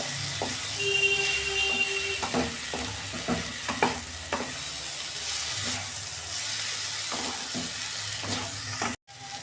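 Steady low sizzle of teasel gourd frying in a pan without water, with scattered clinks and scrapes of a utensil stirring throughout.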